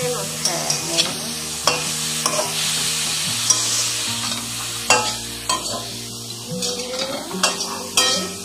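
Broccoli with black pepper stir-fries in a pan Bengali style, the loud steady sizzle broken by repeated scraping and clanking of a spatula against the pan at an uneven pace, with no voices.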